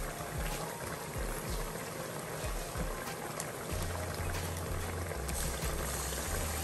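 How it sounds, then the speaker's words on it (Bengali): Half a cup of water hits onions and masala frying in a pan, giving a close, busy sizzle and bubbling hiss that continues steadily, with low thumps of the pan underneath. "হাফ কাপ পরিমাণে ওয়াটার দিছি আর অনিয়নের সাথে মশলাটা একটু কষানি"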